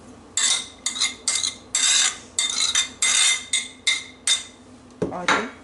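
Onion, chicken, coriander, green chilli and garlic go into a bowl in a kitchen, making about a dozen quick, close, rhythmic metallic clinks and scrapes against the dish.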